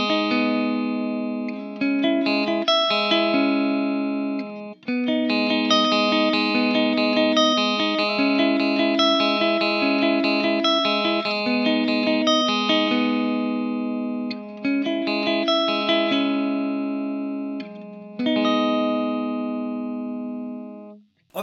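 Clean electric guitar through an ENGL Powerball II amplifier rings out in bright, sustained chords and arpeggiated phrases, crisp and undistorted, played alone with short pauses between passages.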